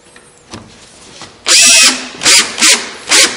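A power drill whirs in a long burst, then in three short pulses, loud and close, as it drives a screw into a face frame on a Kreg Face Frame Table.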